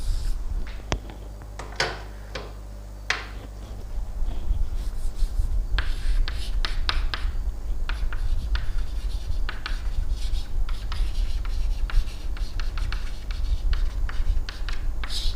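Hand-writing a diagram, likely pen or marker on a surface, gives soft scratchy strokes and rubbing in irregular bursts, steady and close, with no talk over it.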